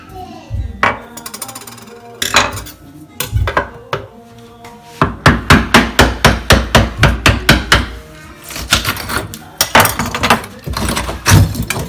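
Repeated hard hammer strikes knocking off old backsplash tile, sharp cracking impacts in irregular bursts, then a fast steady run of blows, with brief talk between.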